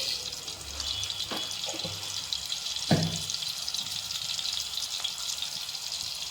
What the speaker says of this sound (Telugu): కొంచెం తాలింపు గింజలు వేసుకుందాం